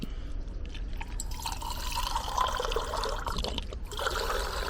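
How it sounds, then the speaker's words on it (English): Water pours and trickles into a titanium mug set on a mini twig stove outdoors, a quiet, continuous filling sound whose pitch shifts as the mug fills, with a brief break near the end. "So I reckon we'll put some water in"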